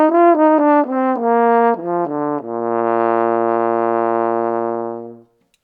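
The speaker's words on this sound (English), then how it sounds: "when we put the mouthpiece into the French horn," A French horn played in an orchestral demonstration gives a short run of quick detached notes stepping downward, then a single low note held steadily for about three seconds, full and mellow, ending cleanly.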